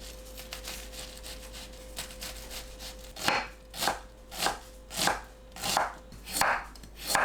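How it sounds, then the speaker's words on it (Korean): A knife chops onion and carrot small on a board, a steady run of crisp rhythmic cuts that grows more distinct and evenly paced, about eight clear strokes near and alone. "양파, 당근을 작게 썰어주세요."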